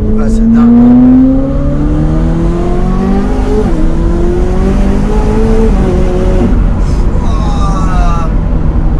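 A Pagani supercar's engine roars loud and close, its pitch climbing and falling through revs over a sustained, steady roar, with people talking faintly underneath.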